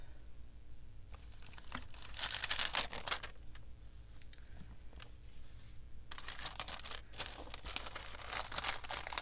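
A bag of fluff being handled near a crafting journal, with bursts of close plastic crinkling and rustling separated by quieter pauses.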